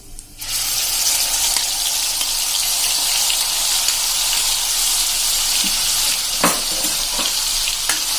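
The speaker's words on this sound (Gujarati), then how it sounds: "અંદર જે આ કાંદા, આદુ, લસણ અને મરચાની પેસ્ટ કરી છે એ નાખી દેશું" A paste of onion, ginger, garlic and chili hits hot oil with a sudden loud, steady sizzle that fills the whole stretch, with a few utensil scrapes near the end.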